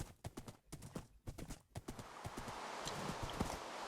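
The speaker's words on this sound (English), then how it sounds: "The horses are escaping." Horses clip-clopping in a video game, a quick run of hoof clops at moderate distance that fades into a steady background wash, fairly quiet overall with no talking.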